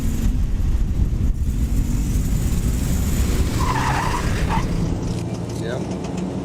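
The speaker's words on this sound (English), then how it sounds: "Let's see if the turbocharger will still spool up as a Grand National should." Turbocharged Buick Grand National engine spooling up, a steady motor roar with a brief rising whine and some tire-like squeal midway, while a voice speaks over it.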